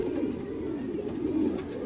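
A pigeon coos softly and repeatedly in a low, rolling murmur, close by with no talk over it.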